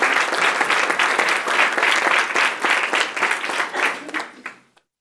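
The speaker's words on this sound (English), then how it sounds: "One more round of applause for Siraxa." Audience applause at a health-tech startup showcase, loud and sustained clapping from a crowd that holds steady for about four seconds before tapering off.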